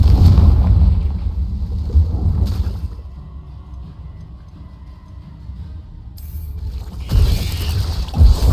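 Confringo explosive spell cast in Hogwarts Legacy, loud booming blasts at the start and end with rumbling decay and mechanical ticking between them, close and heavy.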